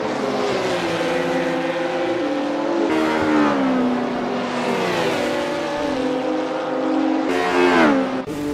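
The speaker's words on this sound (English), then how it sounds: "Turbin is really flying now, and he's got Stokes right in his sights." 1960s racing cars lap the Montjuic street circuit in the Assetto Corsa racing game, with loud, continuous engine howls that rise and fall through gear changes as several cars pass close together.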